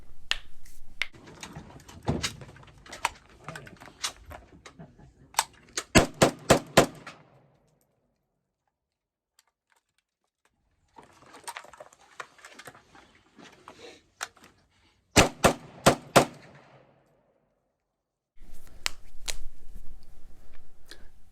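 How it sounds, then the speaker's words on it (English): An AK-pattern rifle fires shot strings outdoors in sharp, close, evenly spaced cracks, several in a row, then a long quiet gap and another tight string, with handling noise and movement between bursts. "I did not dump an entire magazine. I just fired a shot string"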